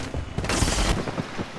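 A burst of gunfire in a first-person shooter game, a sniper rifle crack, is followed by a loud booming rush and scattered echoing shots, loud and close, with no talking.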